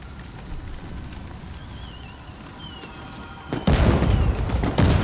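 Fireworks in the video game Death Stranding 2: thin whistles rise over a steady rumble, then heavy booming bursts hit loudly near the end.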